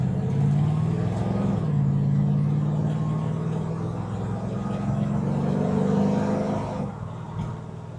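A 1963 Corvette engine pulls hard as the car accelerates on the road, a loud, continuous droning roar with shifting pitch that eases slightly in the last second.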